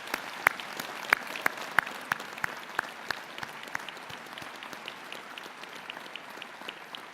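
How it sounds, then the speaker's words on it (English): A convocation audience bursts into applause, sharp individual claps standing out at first before settling into a steady, moderately distant wash of clapping that keeps going without talk. "Let's give them a nice round of applause, please."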